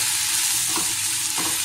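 Onion, tomato, chili and coconut frying and being stirred in a pan, a continuous loud sizzle with two scraping strokes of the stirring spoon.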